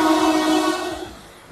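A Vande Bharat express passing through an Indian railway station sounds a loud, steady horn tone that fades away within about a second, with faint rail rumble underneath.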